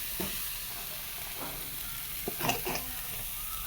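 Macaroni masala stirred in a hot pan: a continuous quiet sizzle with a few soft scraping strokes of the spoon rising above it.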